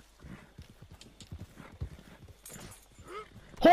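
A horse in the video game Red Dead Redemption 2 clops along with quick, uneven hoofbeats, then gives a short whinny just before the end.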